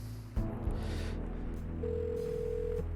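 A phone rings in the detective adventure game Kathy Rain 2, a steady electronic ringing tone heard alone over a low background hum.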